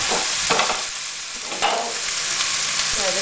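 A whole onion is dropped among browning meat in a pot for Botswana seswaa, with a loud, steady sizzle broken by a few stirring scrapes and bumps, close and without voices.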